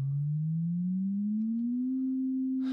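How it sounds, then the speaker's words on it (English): A pure sine tone gliding smoothly upward by an octave, ending near 261 Hz, steady and loud with nothing else around it. "If I was to increase the frequency of this sine wave, so like before, I'll raise it by an octave."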